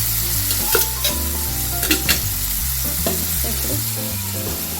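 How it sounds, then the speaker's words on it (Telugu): Potatoes fry in oil over a medium flame with a loud, continuous sizzle and occasional stirring scrapes, while music plays underneath. "సో మీడియం ఫ్లేమ్లో ఈ ఆలు మొత్తం లైట్ బ్రౌన్ కలర్ వచ్చేంత వరకు ఫ్రై చేసుకోవాలి"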